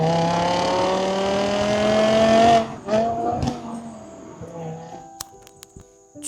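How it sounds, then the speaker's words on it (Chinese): A BMW E60 M5 with its S85 V10 engine rings out loud and close, climbing steadily in pitch for about two and a half seconds, then dropping away into a quieter, fading idle with brief clicks and tones. "除了 S85 这个引擎所带来的甜美的声浪以外"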